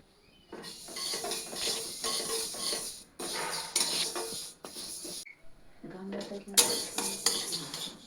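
A utensil scrapes and clatters against a kadai as rice is stirred, in bursts of metallic scraping separated by short pauses, with faint sizzling beneath.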